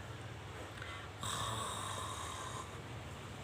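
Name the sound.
imitated snoring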